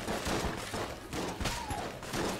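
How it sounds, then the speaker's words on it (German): Rapid gunfire from the video game Enter the Gungeon, a dense run of quick shots and thuds that holds steady and loud for about two seconds. "da wollte ich ganz schön schießen"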